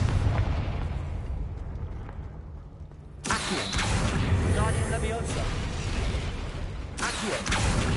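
A Confringo fire spell bursts in Hogwarts Legacy with a loud, broad explosive boom and a crackling, rumbling tail, then a second blast follows, with talking mixed in underneath.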